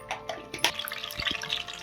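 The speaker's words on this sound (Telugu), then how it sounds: "కొంచెం జీలకర్ర అయితే వేసుకుంటున్నాను" Cumin seeds dropped into hot oil in a pan, giving a close crackling sizzle with scattered pops and spits over a brief stretch.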